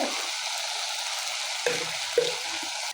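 Fennel seeds and a little crushed salt sizzle in hot oil in a pan for an okra tamarind-chili curry, a steady close frying hiss with two brief stirring clinks near the end and no talk.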